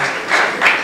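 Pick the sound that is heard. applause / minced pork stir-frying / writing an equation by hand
applause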